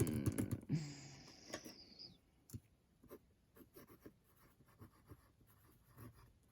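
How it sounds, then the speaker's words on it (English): Pen scratching across paper while an email address is written down, a brief shrill squeak near the start, then soft irregular strokes and taps close by with no talking. "Let me write that down for you all."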